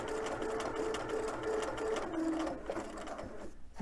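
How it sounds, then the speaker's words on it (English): A sewing machine stitches a buffalo-check pillow seam sideways, running in a steady continuous hum of rapid needle strokes with brief pauses, close and fairly loud. "So see, I'm sewing"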